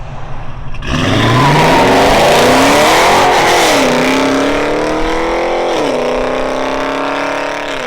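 A 2021 Dodge Challenger Shaker with a 5.7L HEMI V8, headers and Flowmaster Super 10 mufflers, roars into a loud revving drive-off, the engine note climbing through gears then holding a deep, booming exhaust drone as it pulls away.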